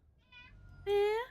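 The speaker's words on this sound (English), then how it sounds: "That's my cat." A pet cat meows twice nearby, first a short quiet mew and then a louder, longer meow, with a person's brief voice in between.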